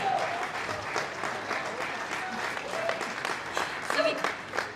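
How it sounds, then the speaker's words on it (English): Audience applause fills the room at a Star Wars Celebration fanstream for Hasbro Pulse, a dense steady patter of many hands clapping at moderate loudness, with faint voices mixed in. "wait for the applause"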